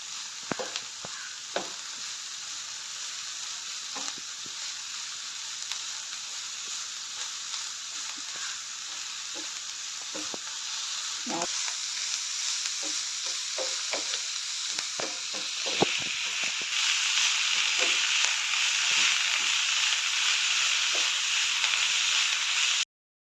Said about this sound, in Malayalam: അരിഞ്ഞു വെച്ച നമ്മുടെ കോവയ്ക്കയുടെ ഇല ഇട്ട് കൊടുക്കാം. ഇതെല്ലാം കൂടെ ചേർത്ത് നല്ലപോലെ മിക്സ് ചെയ്തെടുക്കണം.